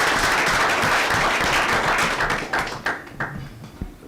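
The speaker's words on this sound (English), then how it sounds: "Let's clap for Miss World" Dense applause from an audience at a MindFest 2021 mental health event in Kenya, honouring Miss World Kenya, broad steady clapping that thins and tapers into scattered claps toward the end.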